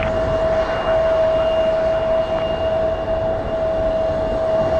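A jet airliner rolls for takeoff at Toronto airport, a steady loud engine roar with a sustained whine holding throughout, broad and continuous with no talk.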